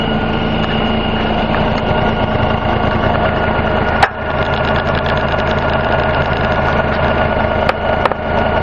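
LS XR 3135H compact tractor engine running while moving rocks, a loud, close, steady diesel drone with a slight knock, broken by a couple of brief clanks.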